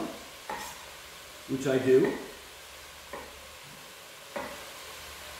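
Ground meat for spaghetti sauce fries in a pan, with a low sizzle, a few spoon scrapes and one louder stirring burst, while someone speaks briefly.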